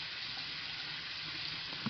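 Hot water pours over a plastic bathroom exhaust fan from a Ventline V2262 unit in a steady, hissing splash that holds fairly constant at moderate volume, with one small clink near the end.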